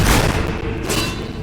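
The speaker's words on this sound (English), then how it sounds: "Stop all that shooting nonsense!" Gunfire booms in the video game Fable 3 at Traitors Keep, a dense, heavy burst of low thuds filling the short moment without speech.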